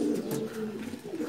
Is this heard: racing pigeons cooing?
yes